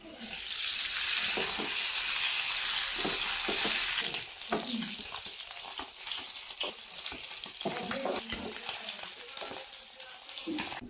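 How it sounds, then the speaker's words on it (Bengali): Cumin seeds crackle in hot mustard oil in a kadai for a katla fish curry. A dense hiss fills the first few seconds, then eases into a softer sizzle broken by stirring clinks and scrapes, with no voices. "এখন কড়াইতে সর্ষের তেল গরম করে তাতে দিলাম জিরে ফোড়ন"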